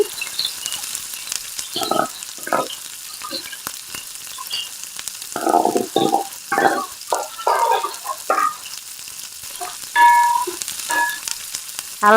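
Onion paste for a prawn curry hits hot oil and fries with a close, crackling sizzle. Bursts of bubbling and spattering come and go, with stirring scrapes and a few sharp clinks of a utensil on the pan.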